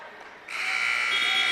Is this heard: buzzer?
yes